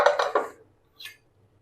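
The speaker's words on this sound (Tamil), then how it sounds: "குக்கரை ஓபன் பண்ணி பார்த்துக்கலாம்." A pressure cooker lid is opened after cooking an oil-free diet kurma, giving a quick run of close metallic clanks and rattles followed by a brief faint click, with no talk.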